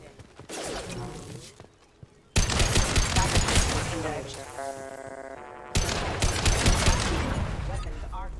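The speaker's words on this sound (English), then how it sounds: "He's gunning down his own crew to keep control?" Bursts of gunfire in Mass Effect Legendary Edition as a ship captain guns down his own crew, sharp loud volleys in separate bursts with a stretch of quieter sound between them, mixed with voices speaking.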